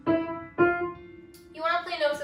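Two detached notes at the same pitch are played on an instrument during a beginner music lesson. Each note has a sharp attack and a quick decay, and a brief voice follows them.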